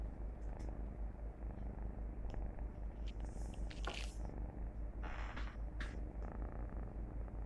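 Cats purring, a continuous low rhythmic rumble close to the microphone, steady and soft, with a few faint higher rustles on top and no one speaking.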